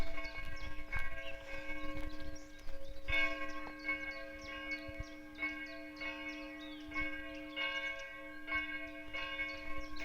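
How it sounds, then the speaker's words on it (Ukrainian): Church bells ring from a neighbouring village, calling people to church, with steady repeated strikes over a sustained tonal hum, heard at a moderate distance throughout. "Б'ють дзвони на схід до церкви на 9 годину."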